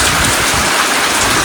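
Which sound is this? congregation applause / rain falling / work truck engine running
rain falling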